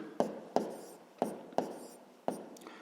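A hand writes a number down during a sixth-grade maths exercise, giving five sharp taps of pen or chalk on the writing surface at uneven intervals, each followed by a soft scratchy trail, close and quiet.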